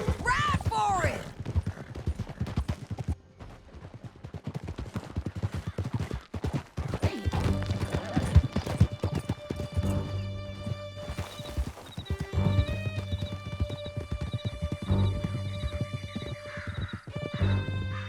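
Horses gallop through a canyon in Red Dead Redemption 2, hoofbeats clattering steadily with a whinny, later joined by game music and sharp impacts.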